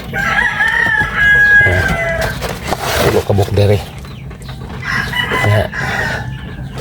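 Chickens cluck and a rooster crows nearby, loud and continuous, with a person talking over the birds.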